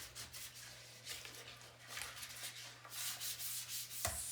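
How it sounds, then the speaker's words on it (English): A brush scrubbing a porcelain toilet bowl to lift hard water stains, rapid rhythmic rubbing strokes repeating close up over a low steady hum, no talk. "So giving it a nice good scrub."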